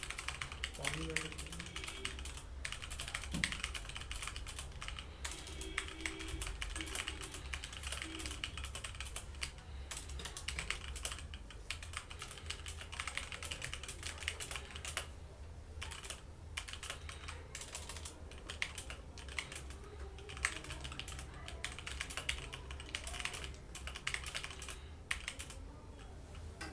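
Fast typing on a HyperX Alloy Origins mechanical keyboard during a multiplayer typing test, a dense continuous stream of close clicky keystrokes throughout, with someone talking intermittently over it.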